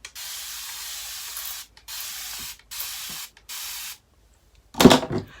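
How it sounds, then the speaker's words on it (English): A fenugreek detangling pre-poo is pumped from a spray bottle onto hair in four even hissing bursts, each about a second long with short pauses between, close and clear, followed by a brief handling rustle. "Last piece in the front. Let's spray it."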